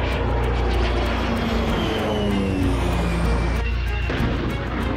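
An RQ-4A drone in flight, its aircraft engine giving a loud, continuous roaring drone with a steady rumble that barely changes throughout.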